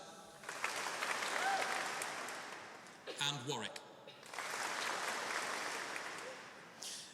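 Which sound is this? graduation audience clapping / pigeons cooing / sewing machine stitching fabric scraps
graduation audience clapping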